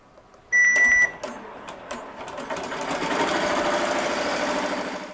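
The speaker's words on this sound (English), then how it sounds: "Now we can start it." An embroidery machine stitches the border of a 3D puff embroidery patch. A short beep comes first, then a few clicks, then a fast rhythmic stitching chatter that builds and holds steady and close.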